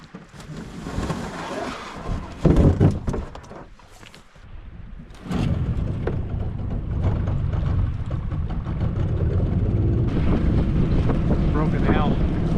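A boat rides up a river in the wilderness, with a steady engine drone and heavy wind buffeting the microphone. Bursts of gusty noise and a short lull come early, then a continuous loud rush carries on to the end.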